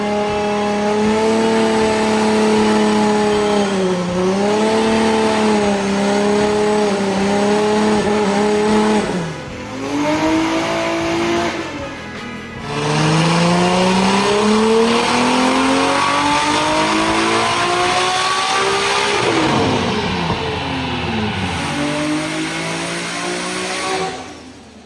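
A Nissan S14.9 car screams through power runs on a dyno, its engine revving hard in long rising sweeps that briefly dip between pulls, loud and close throughout with a roaring, harmonic-rich tone.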